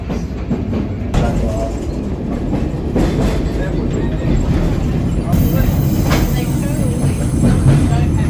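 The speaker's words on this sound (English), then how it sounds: "And then the train." A sightseeing trolley train rolls into a station in Japan, loud and close, with rumbling wheels and rhythmic clatter on the rails throughout, plus faint voices in the background.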